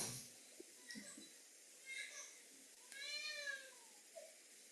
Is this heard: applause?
no